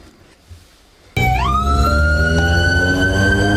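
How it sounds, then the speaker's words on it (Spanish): Ambulance siren on night streets of Nezahualcóyotl, bursting in loudly after a quiet second of street ambience, then wailing steadily and close with rising and falling tones over engine rumble. "La ambulancia empieza a recorrer las calles de Nezahualcóyotl"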